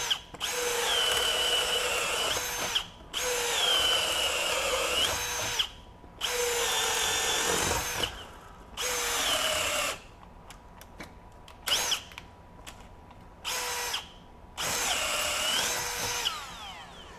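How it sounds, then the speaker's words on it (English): Milwaukee M12 FUEL Gen 3 hammer drill boring through wood with a 1/2-inch self-feed paddle bit, loud whining bursts of several seconds each, separated by brief pauses and short blips, up close with no talking. "So I'm going to switch to just a typical self-feed paddle bit. This is a 1/2-inch"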